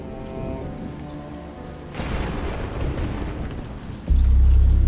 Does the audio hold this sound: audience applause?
no